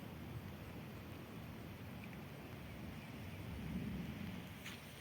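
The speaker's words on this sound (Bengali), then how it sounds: "বন্ধুরা প্রচণ্ড বৃষ্টি নেমে গেছে" Heavy rain pours over a river and wetland area, a steady, dense wash of noise that continues unbroken with a slight swell near the end.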